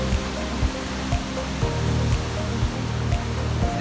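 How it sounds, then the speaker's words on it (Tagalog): A misty waterfall at Baler, Aurora, reached after a trek, gives a steady, dense rushing roar with faint regular thumps beneath it and no voices. "Waterfall."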